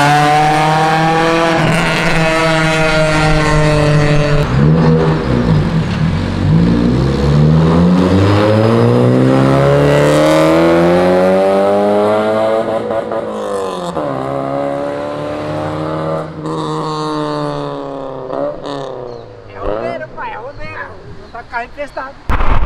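A car passes close by with its engine revving hard, the pitch sweeping up and down as it goes, then fading into quieter street noise with a brief loud burst at the end.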